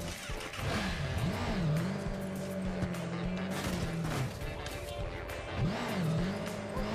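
A motorcycle in Watch Dogs 2 revs and rises in pitch several times, its engine droning steadily in between, loud and close, with no talking.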